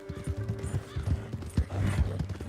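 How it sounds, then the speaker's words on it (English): Horse hooves clip-clop in Red Dead Redemption 2, a close, uneven run of thudding footfalls over a faint musical hum, with soft snorting movement between steps. "This horse ain't even acting right."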